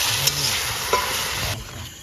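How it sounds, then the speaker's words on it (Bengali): Meat being stirred in a large cooking pot at an outdoor picnic, a continuous sizzle with a few sharp scrapes and knocks of the stirring spoon against the pot, close and fairly loud. "নিহার দা এখানে মাংস লড়াচ্ছে।"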